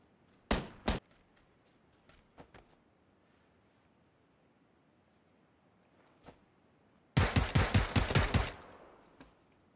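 Video game gunfire plays out as a pair of sharp shots near the start, scattered faint pops, then a loud rapid automatic burst near the end, with quiet stretches between and no speech.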